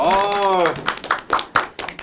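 A voice speaks first, then a small group of office staff gives a short round of claps, several distinct bursts of hands close by and slightly uneven.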